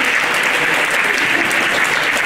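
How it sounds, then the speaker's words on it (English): A crowd gives loud, sustained applause for a pharmacy department director at an evening language festival, an even, dense wash of clapping with no pauses or voices. "now please huge applause for the director of the Pharmacy Department."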